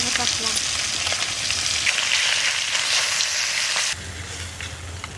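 Loud, dense sizzling in oil left from frying fish, continuous hiss that drops to a quieter sizzle near the end.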